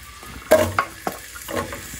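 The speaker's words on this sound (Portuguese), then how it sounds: "Deixa eu dar uma douradinha no alho." Garlic and onion browning in a frying pan, a light sizzle broken by several sharp spoon-on-pan clinks and stirring scrapes, close and without talking.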